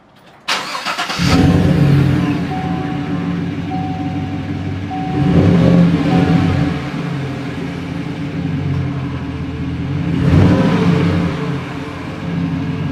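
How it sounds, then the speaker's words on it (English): A 2014 Chevy Silverado with a Flowmaster Super 40 Delta Flow muffler and a straight pipe in place of the resonator cranks and fires up, settles into a deep rumbling idle, then gets two loud revs several seconds apart. "how it sounds after the Flowmaster Super 40 series Delta Flow muffler got put on, and a straight pipe in place of the resonator"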